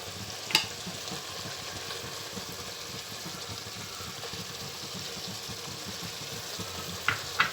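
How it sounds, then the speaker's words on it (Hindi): Mutton sizzles steadily in ghee with red chili powder, a soft continuous frying hiss with a couple of sharp spoon clinks near the start and again near the end; no one speaks. "अब आपने जो है इसको भूनना है।"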